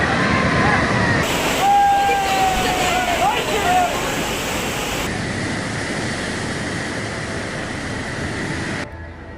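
A tidal bore on the Ganga River, ocean water forced into the narrow channel at an extreme high tide, surges upstream as a loud, steady roar of rushing water that holds for several seconds, with a faint high whistle above it.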